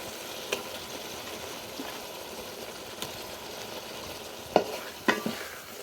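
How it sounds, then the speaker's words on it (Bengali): Chicken pieces tossed into a spice paste for a curry, with a faint low sizzle throughout and a few sharp scraping clatters of stirring near the end. "তারপরে মধ্যে আমি মুরগির মাংসগুলো দিয়ে দিলাম"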